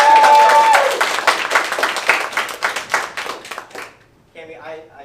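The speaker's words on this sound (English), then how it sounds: "Let's give her a round of applause." Audience clapping at a live improv comedy show as a performer is welcomed onto the stage, loud and dense at first, then thinning into scattered claps and fading out.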